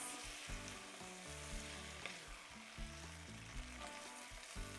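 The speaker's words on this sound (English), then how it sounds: "We're going to mix all this together and we're going to simmer this about 10 minutes." Enchilada sauce and meat mixture simmering in a pan, giving a steady close sizzle and bubbling with a faint stirring scrape throughout and no voices.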